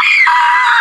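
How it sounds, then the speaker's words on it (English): A person screams loudly and continuously at close range, a sustained high-pitched cry that briefly drops in pitch midway, at an indoor trampoline park. "Why are you screaming?"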